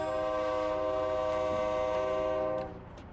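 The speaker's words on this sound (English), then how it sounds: "Is there like a train or something?" A passing train in the American Truck Simulator game sounds a long, loud sustained horn over rumbling wheels, the horn cutting off and fading near the end.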